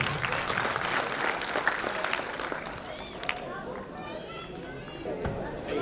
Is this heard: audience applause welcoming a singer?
yes